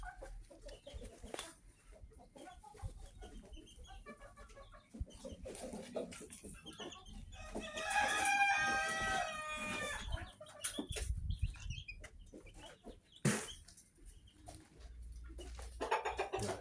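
Chickens cluck in a basket, a hen and her chicks among them, with a rooster's crow ringing out clearly in the middle amid scattered clucks, rustling and some wing flapping.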